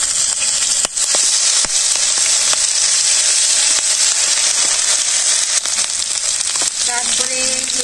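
Garlic sizzles loudly and steadily in hot oil in a pan, with cumin and ripe chillies, during simple village home cooking; a dense continuous hiss with small crackles and a few faint utensil knocks.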